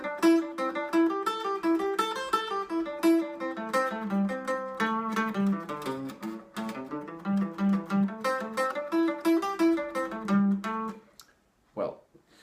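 A minor pentatonic scale picked note by note on guitar, running up and down through the vertical positions in a steady, even rhythm; the notes ring clearly and close, then stop, followed by a brief soft sound near the end.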